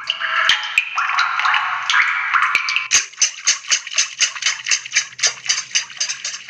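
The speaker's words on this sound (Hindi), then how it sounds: "ग्लास में चम्मच को डालकर जब हिलाते हैं तब की आवाज़" A spoon stirred inside a glass, rapid rhythmic clinks that settle into a steady, even beat of ringing taps, close and fairly loud, after a busier stretch of scraping and knocking.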